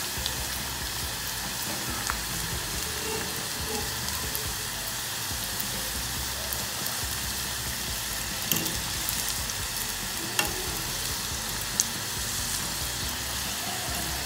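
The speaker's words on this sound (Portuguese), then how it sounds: "fritar os pequenininhos primeiro" Small pastéis frying in a shallow amount of oil in a pan, steady dense sizzle with occasional pops and crackles, close and continuous with no talking.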